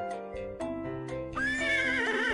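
A horse in the Pajama Sam 4 video game lets out a loud, clear whinny after a few short tonal game notes, close and alone without talk.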